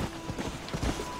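A horse trots along railway tracks in Red Dead Redemption, its hooves giving quick, uneven clip-clop beats at moderate distance, steady over a low background hum, with no voices.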